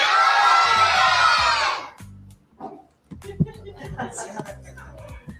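Children scream Nickelodeon at the top of their lungs in a studio, a loud sustained crowd of shrill voices for about two seconds that cuts off abruptly, followed by scattered speech and murmuring.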